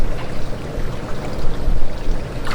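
A black Apache 3800 hard case is shaken about in bubbling hot tub water, giving a continuous close sloshing and churning with low, rumbling splashes that swell and ebb over a couple of seconds.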